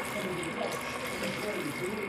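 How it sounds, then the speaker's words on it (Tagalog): Tap water gushes steadily into a cooking pot for a pechay vegetable dish, an even, close filling sound lasting throughout without a break. "Lagay tayo ng tubig, tansyahan lang."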